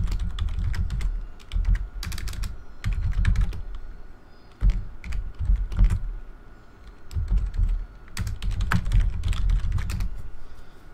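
Rapid bursts of computer keyboard typing as a name is entered, clustered clicks in several runs with brief pauses, close and clear with no talking.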